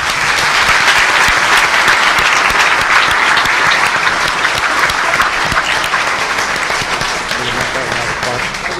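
Sustained applause from a debate audience for the candidates of a legislative district assembly debate, dense steady clapping that carries on for several seconds and tapers slightly toward the end.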